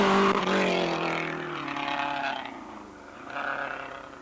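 A rally car at the 1988 Wicklow Rally driven by Eamon McAleenan on stage 1 roars past close by, engine revving hard then fading and rising again as it accelerates away.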